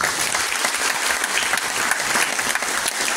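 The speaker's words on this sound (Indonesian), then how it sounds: "tepuk tangan sekali lagi dong." Audience applause fills a poetry-reading stage event at Taman Ismail Marzuki in Jakarta, a dense, steady wash of clapping sustained loudly throughout with no break.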